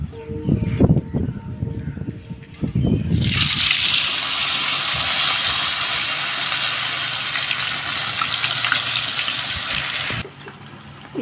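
Marinated jackfruit pieces drop into hot oil and set off a loud, steady sizzle that runs for several seconds and then stops suddenly, after brief clatter and handling sounds.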